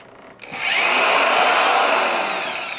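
A power screw gun whirs up sharply after a brief click and runs steadily, backing screws out of the front of a saddle tree, loud and close with no voices.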